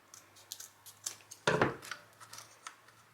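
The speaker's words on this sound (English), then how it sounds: "So I'm just going to cut these down to size here." Scissors cut small pieces down to size for a Dollar Tree wooden Christmas craft, a string of quiet snips with one louder, longer cut midway, heard alone in a quiet room.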